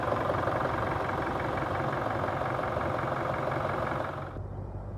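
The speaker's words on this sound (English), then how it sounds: "Another video I'm gonna do of how quiet this diesel engine is." Brand-new 2025 Toyota Hilux diesel engine idling, a low, steady and fairly quiet rumble with even texture, dropping slightly in level near the end.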